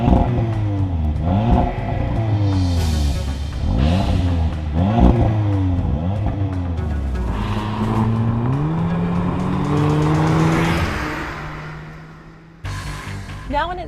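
A 2016 Audi TTS sports car accelerates hard through repeated gear changes, the engine rising and dropping in close, loud revving sweeps, then settling into a sustained higher pitch before easing off.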